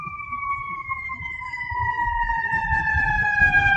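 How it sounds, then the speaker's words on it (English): Emergency vehicle sirens wail outside, with two steady tones that slowly drop in pitch as they pass, over a low rumble of traffic and growing gradually louder. "You hear the sirens?"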